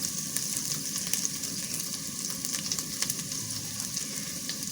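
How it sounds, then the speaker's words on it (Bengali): Dry ground spices, chili, turmeric and coriander powder with salt, are stirred into hot oil in a pan, giving a steady close sizzle broken by soft scrapes of the spoon, with no talk. "এখন আমি এভাবে খুব সুন্দরভাবে নেড়ে চেড়ে গরম তেলের সঙ্গে শুকনো মশলার উপকরণগুলো মিক্সড করে নিচ্ছি"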